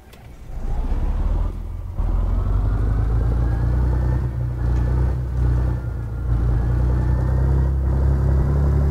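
An old car engine in the Revhead video game fires up after a short crank and settles into a loud, steady low rumble, briefly dipping a few times as it idles.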